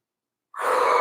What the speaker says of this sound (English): Long breathing.